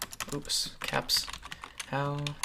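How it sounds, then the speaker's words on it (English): Typing on a computer keyboard, a run of quick, close clicking keystrokes while making a thumbnail, with a short burst of voiced sound near the end. "let me just actually type out what I need to do"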